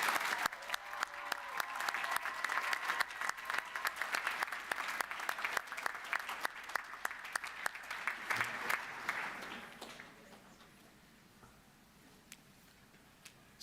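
A university graduation ceremony audience gives a round of applause, steady dense clapping from a large hall crowd that holds for several seconds before fading to quiet room tone.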